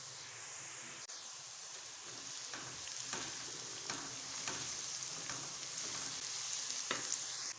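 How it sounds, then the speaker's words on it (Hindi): Ginger garlic paste hitting fried onions in a hot pan, with a steady, fairly quiet sizzle and crackle broken by light stirring scrapes at regular intervals, and no talking. "अब हम 1 टेबलस्पून अदरक लहसुन का पेस्ट ऐड करेंगे"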